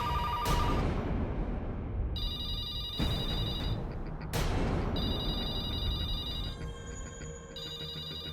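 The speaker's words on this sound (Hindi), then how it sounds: "फोन मत उठाना, कोई फोन मत उठाना।" An electronic telephone ring trills repeatedly in bursts, mixed with dramatic whooshing and tonal background music, with no one speaking.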